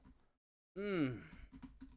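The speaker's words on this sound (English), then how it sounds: "I'm just typing stuff out right now" Computer keyboard typing: after a short silence and a brief voiced sound, soft irregular key clicks tap along at a close, quiet level.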